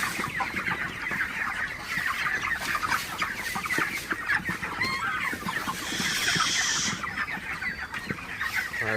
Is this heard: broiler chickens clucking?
yes